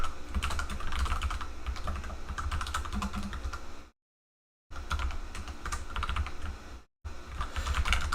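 Rapid clattering keystrokes on a computer keyboard during game programming, close and continuous, broken by two brief silent gaps.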